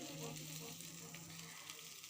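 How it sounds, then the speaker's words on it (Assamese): Soft, continuous sizzling of spices and chickpeas frying in oil in a pan, a quiet, even hiss with faint stirring movements. "মছলাখিনি ভালদৰে ভাজি হোৱাত ইয়াত বুট দালিকেইটা দি দিছোঁ"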